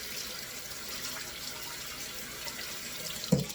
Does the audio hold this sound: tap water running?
yes